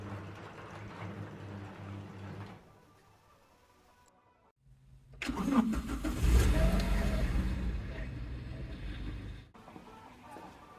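A 2006 Toyota Hiace van's engine starts and runs, then revs louder as it pulls away to level ground, close by and with no talk, before the noise drops off near the end.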